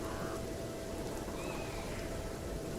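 Steady rain and running water fill the background of the Gunfire Reborn video game, a constant dense hiss that stays even throughout.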